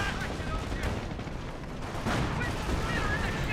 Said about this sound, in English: Quad half track firing away